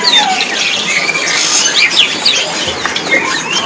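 Chirps and squawks from caged birds at an Indonesian bird market, including a cici padi, several calls overlapping against a busy stall backdrop, fairly loud and steady.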